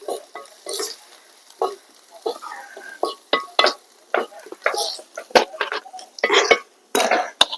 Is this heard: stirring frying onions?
yes